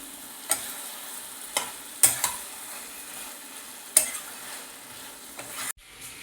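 Mutton curry with cashews being stir-fried in a pan, a low sizzle under several sharp spatula knocks and scrapes against the pan, close up, ending abruptly.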